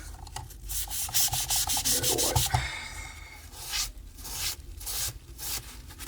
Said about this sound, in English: Let me just give this a wipe with some. I think the grit on this is starting to go.